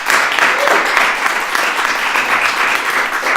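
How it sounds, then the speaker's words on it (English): A small live audience claps steadily throughout at a comedy album recording, a dense, even patter of many hands at fairly close range with no talk over it. "Some people clapping."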